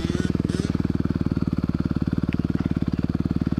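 A 2021 Honda CRF 250R dirt bike engine runs with a steady, rapid four-stroke pulse, loud and close, holding a fairly even low idle-to-light-throttle rhythm throughout with no talk over it.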